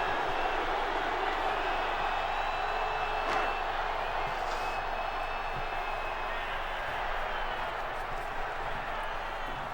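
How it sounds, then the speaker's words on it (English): A large stadium crowd in the video game NCAA Football 06 roars in a continuous wash of booing and noise, with a few faint thuds and whistles rising out of the steady din. "Crowd is still booing."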